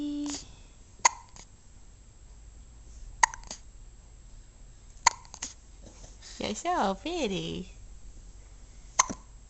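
A young girl hiccups four times at steady intervals of about two seconds, each a short, sharp, close squeak, while someone speaks softly between them.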